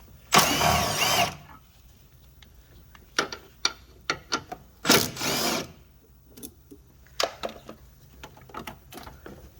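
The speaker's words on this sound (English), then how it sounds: "let me go ahead and take off these two 10s" Ratchet wrench backing out two 10 mm bolts on a 2007 Honda Odyssey during timing belt and water pump work: two loud bursts of clicking near the start and middle, followed by scattered short clicks and taps, close by.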